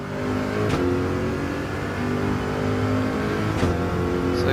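Gr3 race car engine in Gran Turismo 7 at Fuji Speedway drones steadily at high revs, with brief dips as gears shift up through a corner, loud and continuous with no talk.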